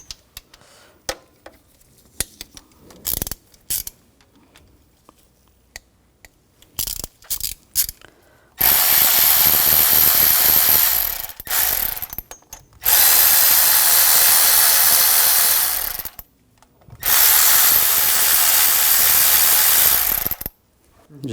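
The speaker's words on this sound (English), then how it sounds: "Using a 10mm socket, take these bolts out" A ratchet with a 10mm socket spins out bolts on a 2004-2009 Audi A4 during a timing belt job: scattered light clicks first, then three long, loud, rapid ratcheting bursts with short pauses between.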